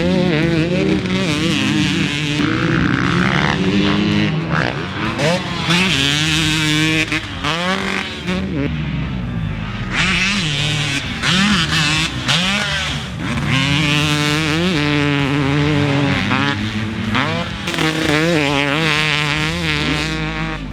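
Cooper Webb's factory KTM 300SX two-stroke dirt bike engine, loud and close throughout, with a buzzy, rising and falling wail as the rider works the throttle, continuous without pauses.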